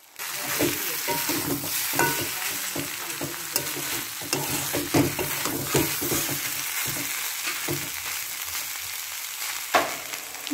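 Flat beans (sheem) cooking in a pan are stirred with steady scraping and clattering over a continuous sizzle, close and moderately loud, with no one speaking.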